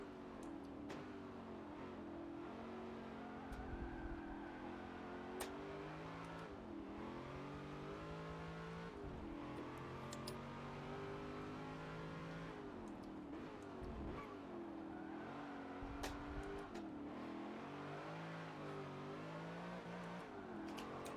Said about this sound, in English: You can get really excited on the throttle with this thing.